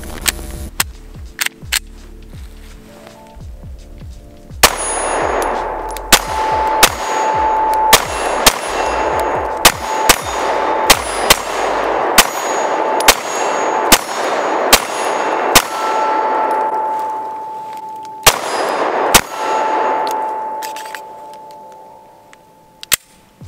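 A custom Smith & Wesson M&P 2.0 pistol in a TYR Defense Provectus Elite 3.6-inch package fires a string of sharp outdoor range shots, each followed by a ringing metallic clang from steel targets, with irregular pauses and a lingering tone between them.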